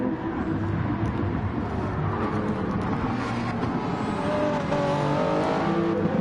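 A pack of race cars in a racing video game roars past together, a steady loud engine drone with overlapping revving and no talk.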